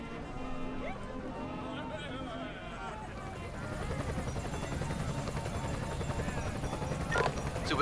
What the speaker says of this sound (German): SEK-Helikopter hole ich auch nochmal her.